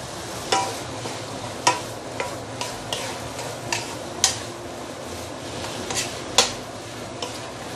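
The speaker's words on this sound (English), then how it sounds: "Okay, let's carry on. Stir fry." Fish sauce beehoon with char siu and egg is stir-fried in a non-stick pan, with a continuous soft sizzle punctuated by regular sharp scrapes and taps of a utensil against the pan.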